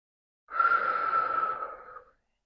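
A single long, soft exhale during a Pilates stretch, a breathy rush lasting about a second and a half and then trailing off into quiet.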